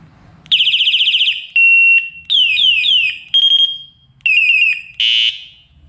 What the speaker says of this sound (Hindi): 4 pattern का हॉर्न है।